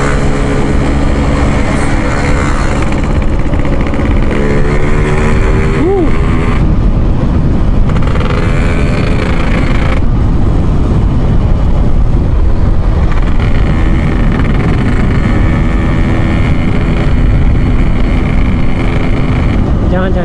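A Yamaha RX King two-stroke motorcycle engine drones steadily while riding on a road, a continuous buzzing note under a voice talking throughout.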